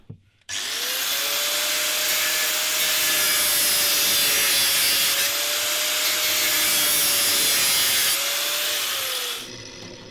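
A hand saw cuts through the plastic of an old fridge being turned into a top bar beehive, a loud, steady rasping stroke held for several seconds up close, with no talking.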